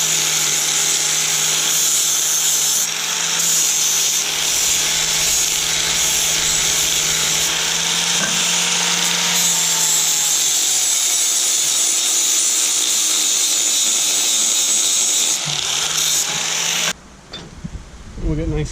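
A flap wheel on a grinder rasps burrs off the edges of metal sawmill saw head mounts, a loud continuous high grinding that runs steadily for about sixteen seconds before cutting off.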